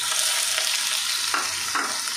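Ginger, garlic and onion stir-frying in hot oil for gobi manchurian, a loud, constant sizzle with a couple of scraping stirs toward the end.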